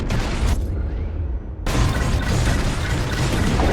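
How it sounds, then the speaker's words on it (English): Bombs exploding in the Star Wars: Squadrons game, a loud rumbling blast that briefly drops away before a second heavy wave of explosions rolls in and sustains to the end. "It's bombs away."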